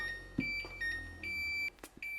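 A Samsung ice maker gives steady electronic beeps at an even pitch during forced defrost, some short and some held longer, quiet and close with faint background hum and no talking.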